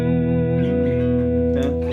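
Gretsch Country Club hollowbody electric guitar with a Bigsby, played on the neck pickup: a sustained clean chord rings warm and full with a slight chorus-like shimmer, then a fresh strum lands near the end.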